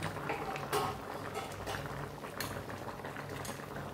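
Kachur mukhi (arbi, taro root) curry with fried vegetables simmers in a covered pan, giving a quiet, continuous bubbling with small pops and gurgles throughout.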